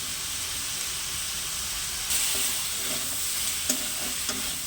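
Cut potatoes and eggplant tossed with salt and turmeric in a hot pan, a continuous close sizzle with a louder hiss swelling midway and occasional soft scraping as the pieces are stirred.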